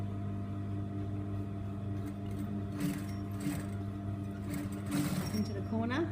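Domestic sewing machine stitching fabric, pivoting at a corner: a steady near mechanical whir with a low motor hum, running continuously, with a few brief pauses and speed changes, and a voice speaking over it.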